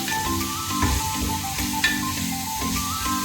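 Mutton kurma is being sautéed in a pan, a close, loud continuous sizzle broken by regular scraping stirs of a spoon roughly every half second, with no voices.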